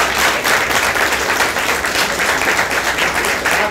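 Sustained theatre audience applause from an amateur drama performance, a dense, even wash of many hands clapping that fills the room without break, with no voices rising above it.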